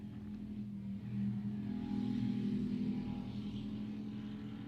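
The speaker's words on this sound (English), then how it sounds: "like the sound of that truck just passing through" A truck passes by outside as a steady low engine rumble that swells and then holds, heard at a moderate distance with no talking.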